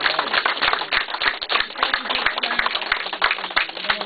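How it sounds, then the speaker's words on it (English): An audience at a gallery solo show opening for Ian Calder in Bray, Ireland, claps in a round of applause, the claps close and uneven, with voices chattering underneath throughout. "and to give Ian a huge round of applause"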